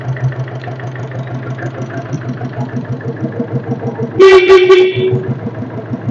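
A close vintage Royal Enfield Bullet diesel motorcycle engine idles with a steady, rhythmic thumping beat, and a horn sounds briefly near the end.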